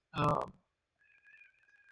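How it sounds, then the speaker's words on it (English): Pet cats fighting indoors: a short, harsh yowl bursts out, then after a pause a thin, drawn-out wailing cry follows, close by. "all my kitties are fighting"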